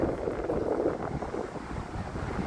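Strong, steady, cold wind roars and buffets close by on a UK beach, a dense rumbling rush with a faint wash of surf behind it and no voices.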